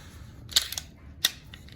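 A pistol with a Radian Ramjet compensator takes a magazine and has its slide locked back, heard as two sharp metallic clicks and clacks about half a second apart, close and crisp in a quiet room.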